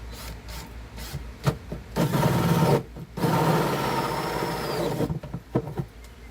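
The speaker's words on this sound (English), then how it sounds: "we're just going to drill straight through." A 2-inch hole saw bores straight through material for a French drain sump pump pipe, a steady grinding rasp in two sustained bursts separated by a brief pause, with short scraping bumps before and after.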